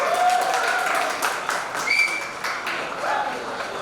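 Applause and whistling at a 2023 convocation as a graduate is called up, a crowd clapping steadily with a few sharp whistles cutting through, fading a little partway before picking up again.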